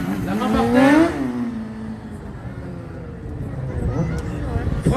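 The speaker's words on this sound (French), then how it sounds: "du drift à basse vitesse, du drift et des circles" A vehicle drifts in low-speed circles with the rear brake worked by hand; its engine revs and swells briefly near the start, then drones at a lower level under people talking.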